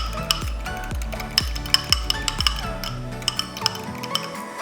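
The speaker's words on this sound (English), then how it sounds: "So eggs, give it a little whisk." Two or three eggs are whisked in a bowl, the whisk clinking against the side in a quick, regular rhythm of sharp taps with faint metallic ringing, close and alone.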